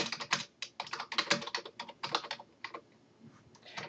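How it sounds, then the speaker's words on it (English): Rapid, uneven keystrokes on a computer keyboard while page content is entered into a Drupal page body field, close and clear in bursts with short pauses, no talking. "this is the body section where you type your content"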